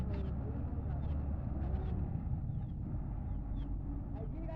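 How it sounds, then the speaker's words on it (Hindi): A combine harvester pulls away across the farm toward another wheat field. Its engine gives a steady, continuous low rumble that stays fairly close and even in loudness throughout. "तो ये देखिए कंपाइन जा रही है अब दूसरे खेत में शायद से।"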